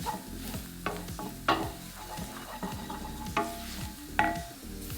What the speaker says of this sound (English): We don't want a floury taste, so we want to cook it into the butter